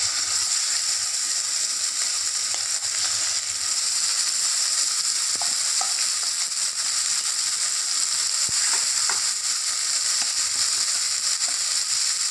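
Ground masala fries in hot oil with cinnamon and cloves for a sprouted chickpea curry, giving a continuous close sizzle and hiss with scattered faint crackles throughout.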